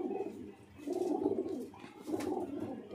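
Pigeons coo in soft, throaty bursts close by, a few repeated rolling calls with short gaps between them.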